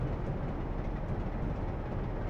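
A Class 47 diesel locomotive in Train Simulator 2013 rolls slowly out of a station hauling coal wagons, giving a steady low rumble of engine and wheels that stays even throughout.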